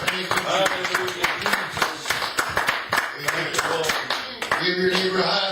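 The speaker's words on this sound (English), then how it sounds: "Let's give the Lord a very big hand clap of praise." A church congregation claps in praise, a run of sharp, rhythmic hand claps with a steady beat over several seconds, mixed with voices and background sound in a large room.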